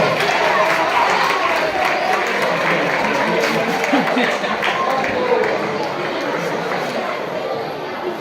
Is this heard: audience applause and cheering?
yes